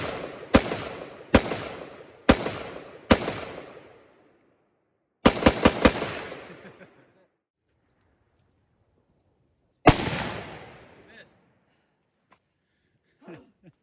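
Gunshots ring out at an outdoor shooting range: four evenly spaced loud reports, a quick cluster of four more, then one final shot after a pause. Each blast is sharp and near, with a trailing echo.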